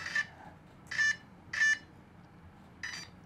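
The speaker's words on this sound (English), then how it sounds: "It'll beep as it turns on." A Losi Promoto-MX RC motorcycle beeps as it powers on: four short electronic beeps, the first three evenly spaced and the last after a pause, in a quiet room.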